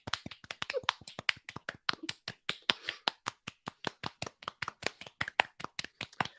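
Hands clap in a long, fast, fairly steady run of sharp, crisp claps, heard up close and loud with no talking during the sequence.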